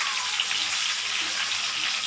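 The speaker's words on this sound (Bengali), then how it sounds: "সুন্দর ভাজা হচ্ছে" Eggplant and potato pieces frying in a pan of hot oil, a steady, close, continuous sizzle and crackle that holds at an even loudness throughout, with no voices.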